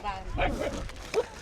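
Dogs bark in a few short bursts on a street in Nellore, mixed in with people talking nearby.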